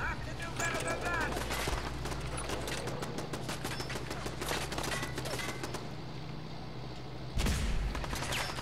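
Rapid gunfire in Fallout 4 aimed at a turret, dense bursts of shots over a constant low combat rumble, with a heavier impact near the end and a voice talking at times.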